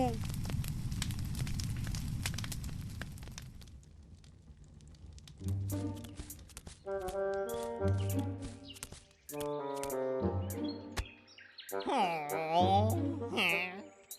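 Cartoon forest fire burning with dense crackling and roaring for a few seconds, then fading out as music and animated voices take over.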